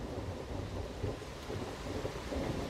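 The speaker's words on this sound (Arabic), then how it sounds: "المطر كتير بينزل." Heavy rain falls during a thunderstorm, a dense steady hiss of downpour with low rolling thunder rumbling underneath, continuous and moderately loud with no voices.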